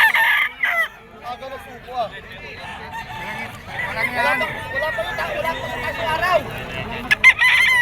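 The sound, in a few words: White Kelso bloodline bull stag rooster crowing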